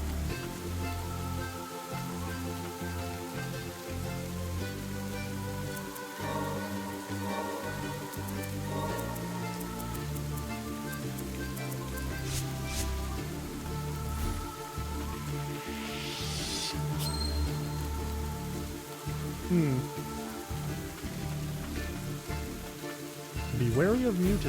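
Steady rain hisses softly across a post-apocalyptic video game world, a continuous faint patter layered under droning game music and occasional small sound effects.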